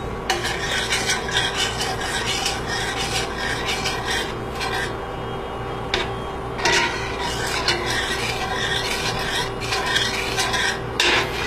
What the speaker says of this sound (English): But you get that in, mix it in really well, and then bring it back up to a boil.